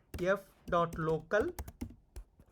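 Typing on a computer keyboard, with a series of quick, close key clicks at the end, preceded by a person speaking over the first part.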